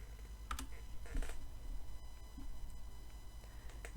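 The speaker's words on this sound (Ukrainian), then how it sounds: "Вводимо, наприклад, Святослав" A name typed on a computer keyboard: a few soft, scattered keystrokes close by over a low steady background hum.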